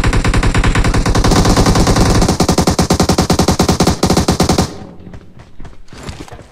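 Rapid automatic gunfire in a video game rattles loud and dense for several seconds, then breaks into a few scattered single shots as it fades.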